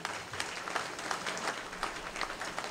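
An audience applauds with dense, steady clapping from a crowd at a public talk, moderately loud and continuous throughout.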